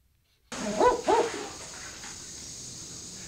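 A barking owl gives two quick, gruff double-note hoots like a dog's woof, close and fairly loud, then fading into a steady hiss of background noise.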